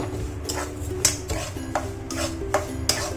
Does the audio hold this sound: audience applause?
no